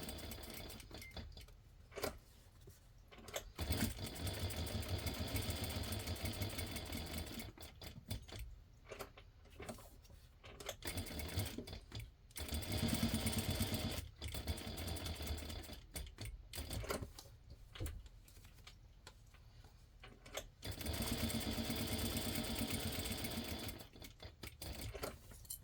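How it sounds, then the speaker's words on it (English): A sewing machine top-stitches around the edge of a fabric corner bookmark, its needle chattering in fast, even runs broken by brief stops, quiet and close with no talk. "And now we're going to top stitch all the way around."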